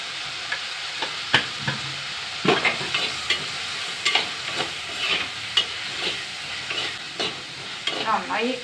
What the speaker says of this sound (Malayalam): ഉള്ളി ഉള്ളി നന്നായി വഴണ്ട് വന്നു